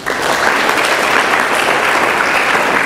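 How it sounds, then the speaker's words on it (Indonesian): A dense crowd applauds in a religious talk setting, loud, close and sustained for the whole stretch with no one speaking over it. "Tepuk tangan."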